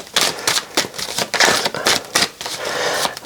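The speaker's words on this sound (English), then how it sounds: "One more shuffle." Tarot cards shuffled by hand at close range, a loud run of quick papery flicks and riffles in uneven bursts, with no talk over them.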